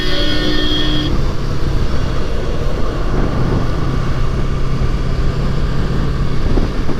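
A Yamaha YZF R3 motorcycle cruising in sixth gear on a multi-lane road, its engine giving a steady, loud drone mixed with rushing wind noise for the whole stretch.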